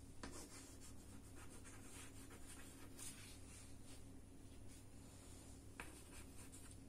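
Chalk or marker scratching across a classroom board while a maths question is written, a faint continuous scraping in short strokes over a steady background hum.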